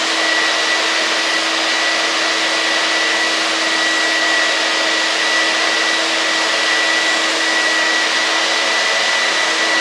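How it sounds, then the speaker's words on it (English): A vacuum cleaner runs continuously close by, with a loud, steady whine and faint tonal hum that stays constant the whole time without any talking; it is being tested for suction against a Mytee HP60 carpet extractor. "I'm just gonna turn on the vacuum on here just to show you guys the difference in suction"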